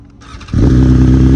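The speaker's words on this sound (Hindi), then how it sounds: "चलो अपना बाइक को करते हैं स्टार्ट" A BMW superbike fires up after a brief starter whir, then settles into a loud, close, throaty idle that holds steady.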